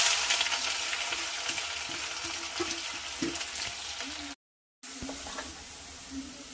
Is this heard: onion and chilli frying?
yes